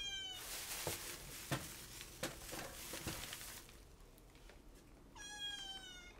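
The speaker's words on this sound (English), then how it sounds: "The three-legged cat wants to get on the counter" A three-legged cat meows indoors, one drawn-out cry at the start and another near the end, with scattered clatter and rustling between them and no talk.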